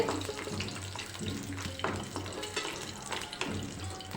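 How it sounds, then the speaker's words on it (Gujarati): Cashews roasting in hot ghee in a pan, a soft continuous sizzle with light stirring scrapes and clinks, moderately quiet with no talk. "આપણે તેમાં કાજુને ઘીમાં શેકી લેવાના છે"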